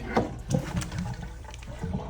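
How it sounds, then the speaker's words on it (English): Water draining and trickling out of a tray used to bottom-water a group of indoor houseplants, a steady wet pouring wash with a few louder gurgling bursts, close and continuous with no talk. "I'm gonna take out the water"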